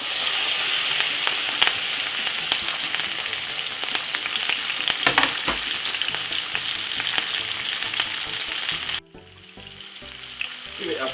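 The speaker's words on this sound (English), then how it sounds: "make that fry for about 2 to 3 seconds" Vegetables fry in hot coconut oil over medium heat, a loud continuous sizzle with stirring scrapes, dropping suddenly to a quieter crackle near the end; no talk.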